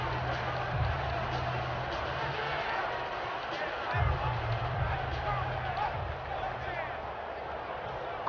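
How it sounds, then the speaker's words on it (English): Crowd noise from an NFL game in Madden 17, a broad stadium roar that swells with bursts of cheering under continuous play-by-play commentary. "Crowd getting in it a bit already."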